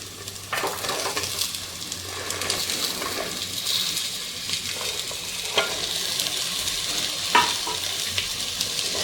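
Chopped vegetables, including green chillies and French beans, fry and sizzle in a pan for Karnataka-style vegetable pulao, with a continuous hiss broken by periodic spoon scrapes and clatter, close up and without speech.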